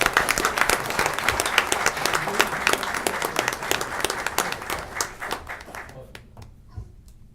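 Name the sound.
audience applause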